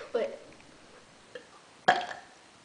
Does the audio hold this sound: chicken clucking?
no